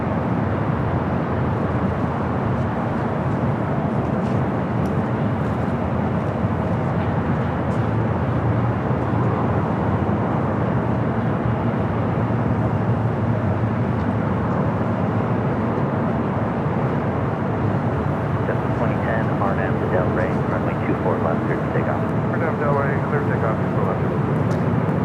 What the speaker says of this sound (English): Here on the north side as Qantas makes that right-hand turn.